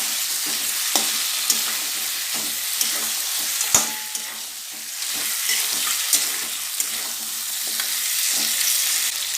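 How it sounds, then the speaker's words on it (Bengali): Fried fish heads stirred with spice masala in a frying pan for a cabbage curry, a steady soft sizzle punctuated by regular spoon scrapes and knocks against the pan, close up with no speech. "মাছের মাথার সঙ্গে আগে একটু মশলাগুলো ভালো করে নাড়িয়ে নিলাম"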